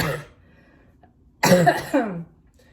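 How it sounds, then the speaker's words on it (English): A short, harsh cough follows a quieter throat sound, close and alone with no talking. "Whenever I like have to talk, like I end up coughing."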